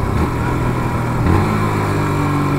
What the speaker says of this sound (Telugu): లేదంటేనేమో రెవ్ మ్యాచింగ్ చేయండి లైక్ దిస్.